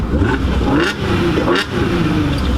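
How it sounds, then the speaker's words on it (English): A 2011 Audi S4 turbocharged engine revs up loudly twice in quick succession, the pitch sweeping upward on each burst over a steady, throaty drone. "the turbocharged engine sounds great"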